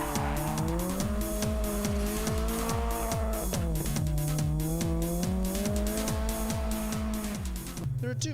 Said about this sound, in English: drifting, or drift-off, is the new age motorsport developed on the streets of Japan